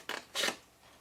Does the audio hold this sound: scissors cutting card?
yes